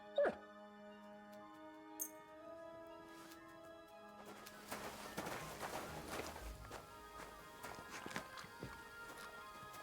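A dog named Mutt in Kingdom Come: Deliverance 2 runs over, its quick, light footfalls patting along on the ground after a short sharp sound and faint music, fairly close and moderately quiet.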